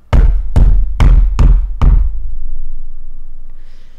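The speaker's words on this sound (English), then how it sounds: "as the knock resounds throughout the hollow space that is your room" Five loud, heavy knocks on a door in an evenly spaced series, each ringing with a boomy thud. A faint hollow room tone lingers after the last knock.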